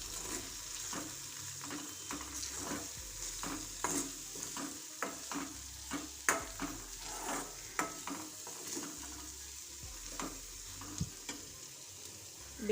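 Onion and tomato curry with red chilli powder and coriander-cumin powder being stirred and fried in a pan: a soft steady sizzle broken by repeated rhythmic scraping strokes of the spoon, close and without talk.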